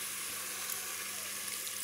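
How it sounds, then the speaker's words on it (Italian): Pork pieces sizzle steadily in a pan as a splash of white wine goes in to deglaze, a continuous close hiss with no talking. "vado a sfumare con un goccino di vino bianco"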